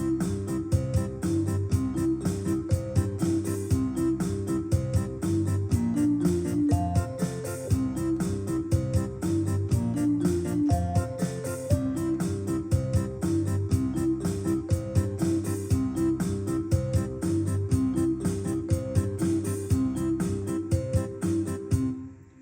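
A Yamaha PSR-SX920 keyboard plays back a full recorded arrangement with bass and layered multipads, a steady, dense rhythmic groove that carries on unbroken at moderate volume without any speech.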